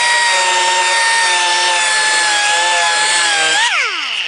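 An inexpensive Harbor Freight hook-and-loop power sander runs on an aluminum bonnet for a Jaguar E-Type, a loud steady whine with a wavering pitch that winds down at the end as the motor stops.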